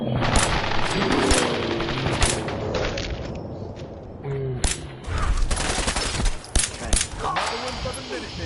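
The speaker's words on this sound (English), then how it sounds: "Stop or they'll shoot! Men, open fire!" Soldiers open fire in Fallout 4, letting off rapid bursts of gunfire and sharp shots with booming impacts, irregular and loud throughout, with voices shouting in between.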